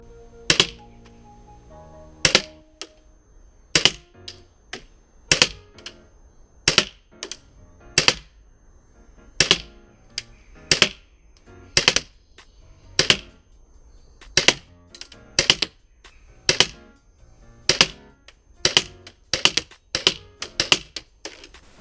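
Tokyo Marui Glock 19 airsoft gas pistol fires 0.25 gram BBs at a 10 meter range, sounding as sharp, loud, evenly spaced cracks, about twenty shots at a steady pace with short quiet gaps between them.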